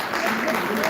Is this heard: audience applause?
yes